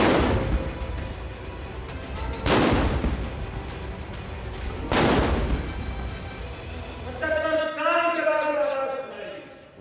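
Three heavy blasts from an Indian-made ATAGS howitzer firing a 21-gun salute at the Red Fort boom at even intervals, each rolling into a long echo, with a voice speaking faintly beneath and after the final shot.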